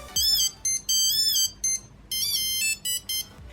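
A Wistiki Voilà Bluetooth tracker rings after being triggered from its phone app, giving repeated bursts of bright, high electronic ringtone chirps with short gaps between them, close and fairly loud with no one speaking.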